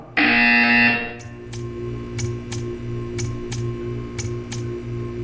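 A loud, sustained buzzer from the game Portal 2 blares for about a second, then gives way to a steady ticking over a low electronic hum.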